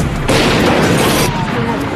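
Grenade blast in a US embassy bombing reenactment: a sudden loud, broad burst of noise that holds for about a second and then decays into rumbling debris and lingering noise, with no speech.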